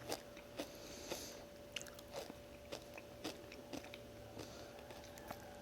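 Close, crisp crunching bites into a fried Dubai-style kadayif pastry snack, a dozen sharp crackles at irregular intervals over a quiet room hum, with no talking.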